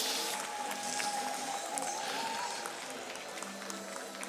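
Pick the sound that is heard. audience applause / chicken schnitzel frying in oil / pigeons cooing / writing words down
audience applause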